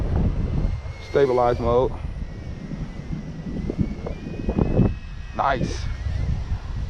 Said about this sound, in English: As you hear the wind starting to kick up.